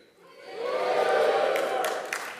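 An awards ceremony audience cheers in a large hall, a broad crowd roar swelling within half a second and holding loud, with a few sharp whoops and claps near the end.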